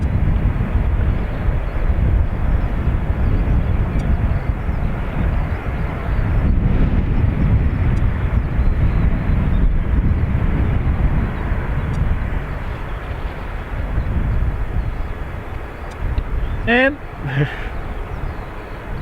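A Ryanair airliner takes off from runway 28 right at Dublin Airport, a loud, sustained jet roar that holds steady for the full length and eases slightly near the end.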